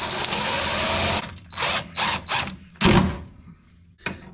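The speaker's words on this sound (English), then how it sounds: "We could just do a self tapper right here." A power drill drives a self-tapping screw into a rusted car body panel, sounding as several short, loud whirring bursts with brief pauses between them, alone without talk.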